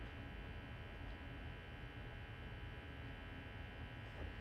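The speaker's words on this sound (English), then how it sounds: "Can you hear that whirring sound from the optical drive?" A Power Mac G3 Blue and White's optical drive whirs and hums steadily while booting, a constant droning buzz with no talk over it.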